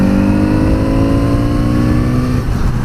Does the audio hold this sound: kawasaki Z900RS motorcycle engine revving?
yes